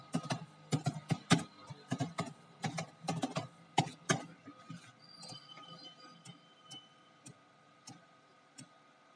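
Quick bursts of clicky computer keyboard typing, dense at first then thinning into scattered, lighter keystrokes, fairly close and quiet.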